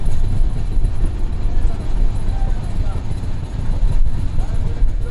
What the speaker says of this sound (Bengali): আমাদের ট্রেনটা বিকাল 4:10 সায়দাবাদ রেল স্টেশন ক্রস করতেছে